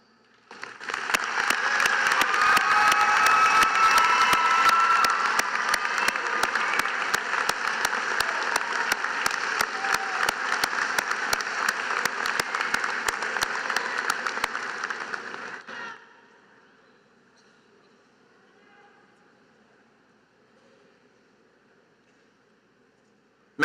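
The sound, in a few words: applause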